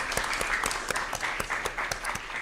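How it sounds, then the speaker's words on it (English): Audience at a school district governing board meeting applauds, a fairly quiet, steady patter of clapping with a few sharper individual claps standing out. "Give a round of applause"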